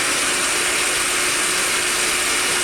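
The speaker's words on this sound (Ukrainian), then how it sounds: "зараз включається вентилятор" The radiator cooling fan of a VAZ 2115 car runs with the hood open, giving a steady, close, whirring mechanical drone with a faint ratcheting texture and a constant hum throughout.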